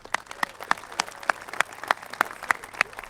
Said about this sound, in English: Get a round of applause, everyone.